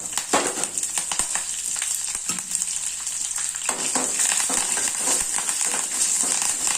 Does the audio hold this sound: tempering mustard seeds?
yes